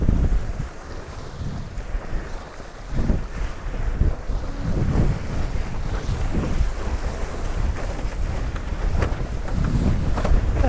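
Strong, gusty sea wind roars steadily into the microphone, with crashing surf and water rushing around a windsurfer at Sunset Beach, South Africa. The noise stays loud and dense throughout, with no voices.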